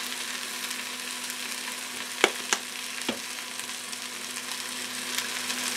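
Spinach greens sizzling and reducing down in a pan, a steady, quiet frying hiss with a few sharp clinks and taps of a utensil.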